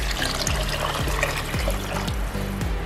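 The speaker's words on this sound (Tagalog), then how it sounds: "Dagdagan na po natin ng tubig." Water splashes into a pot of sopas in a short, steady pour with a close, clear trickle and a few gurgling pulses, no talking.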